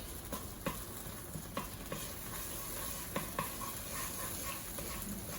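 Garlic sizzles in a pan for pad thai, a steady close frying hiss broken by repeated clicks and scrapes of stirring.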